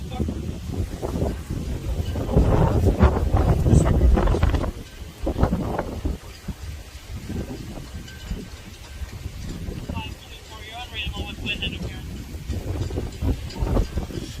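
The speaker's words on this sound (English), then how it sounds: "It's very windy out here." Heavy wind buffets the microphone throughout, with loud low rumbling gusts strongest early on, and speech is faintly audible underneath.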